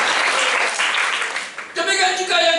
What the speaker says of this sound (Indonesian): Tepuk tangan Tuhan Yesus.